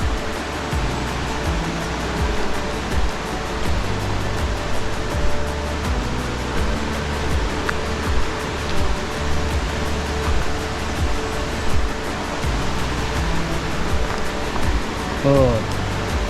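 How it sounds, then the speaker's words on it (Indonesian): A river rushes along the floor of a valley on a steep Sulawesi mountain trail. The water makes a constant, dense roar that fills the whole stretch without pause. "dan kita ketemu sungai"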